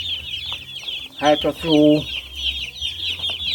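Chickens cluck on a farm in St. Elizabeth, Jamaica, one bird close and loud in a pair of drawn-out squawks over constant background chatter and insect buzz.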